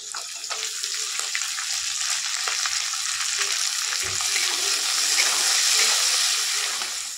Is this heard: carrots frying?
yes